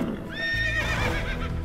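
Horses whinny in the real-time strategy game Age of Empires II: Definitive Edition, a loud, high, wavering neigh standing alone with a low rumble of hooves and battle noise beneath it.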